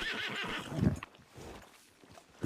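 A horse in the video game Red Dead Redemption whinnies loudly with hoof clip-clop, close and prominent, with a brief second neigh at the end.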